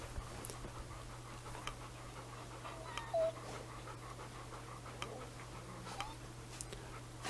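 Sled dogs in the video game The Pale Beyond panting quietly in quick, rhythmic breaths under a steady low hum, with a few faint clicks and whimpers.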